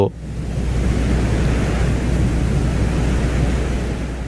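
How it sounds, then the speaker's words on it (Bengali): Wind on Venus picked up by the Venera 13 lander's microphone, a steady low rushing roar with no other sounds, close and continuous. "ভেনেরা 13-এ একটি মাইক্রোফোন যুক্ত ছিল, যার মাধ্যমে শুক্র গ্রহের বাতাসের শব্দ,"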